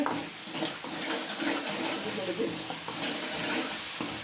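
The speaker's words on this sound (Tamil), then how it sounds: "போட்டு நல்லா வதக்கி விட்டு" Ingredients for attu botti kulambu sauté in a pan with a steady, dense sizzle and stirring, loud and close throughout.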